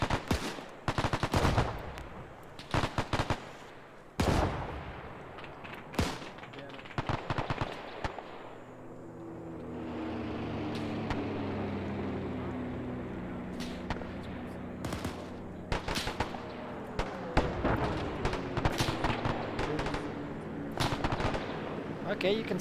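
Machine gun fire rattles in sharp bursts and single loud shots throughout a World War II video game battle at Tarawa, with a steady rumble swelling in the middle and voices calling out between the volleys.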